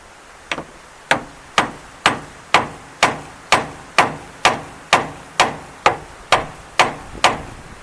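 Sharp metallic hammer blows ring out at a steady pace to jar a stuck socket loose on a 1981 Datsun 210. About fourteen evenly spaced, close, loud strikes each decay quickly.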